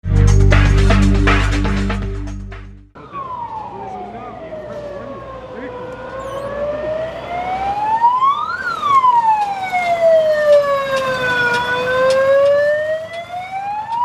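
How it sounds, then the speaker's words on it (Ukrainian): A fire engine siren wails during a rescue service training drill, sweeping up and down in long, loud cycles close by, with a voice talking over the start. "Тривожний сигнал пожежної машини, що, здається, розкраяв повітря навпіл, на щастя, теж був навчальним."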